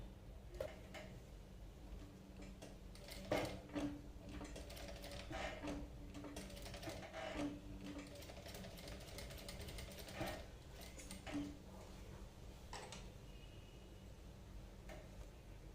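A sewing machine stitches invisible piping onto the front and back neck of a cut-work blouse, running in short rhythmic bursts with brief pauses between them, fairly close and steady throughout.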